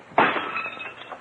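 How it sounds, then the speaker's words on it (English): In a 1940s radio mystery sound effect, window glass is knocked out and breaks in one sharp, close crash, trailing off into scattered tinkling shards. "Might as well knock the rest of the glass out and let some air in."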